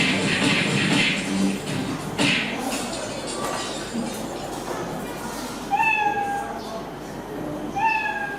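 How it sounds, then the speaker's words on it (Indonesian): Repeated cat meows ring out in short, rising calls near the end, set over a noisy room with scattered clatter and faint voices earlier on. "kucing ya. Kucingnya sedang apa?"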